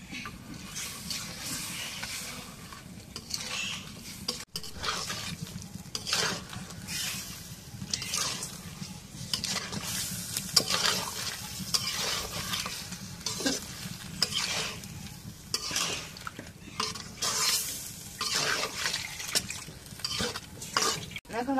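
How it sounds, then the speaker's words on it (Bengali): Fish pieces going into spice paste in a pan, stirred repeatedly with rhythmic scraping and clattering over a continuous sizzle throughout, fairly close and with no one talking. "এখন মশলা কষানো হয়ে গেছে, এখন মাছগুলো দিয়ে দিই।"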